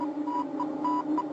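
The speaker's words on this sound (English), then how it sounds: "Hear that beep?" A cartoon spaceship's sonar radar gives a series of short, evenly spaced electronic beeps over a steady hum, moderately loud and alone.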